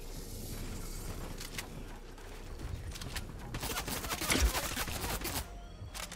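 Scattered gunshots in a shooter video game, distant cracks and short bursts over a busy background, with a sharper, louder cluster of shots in the second half.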